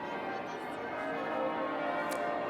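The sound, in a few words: church bells ringing at St. Paul's, London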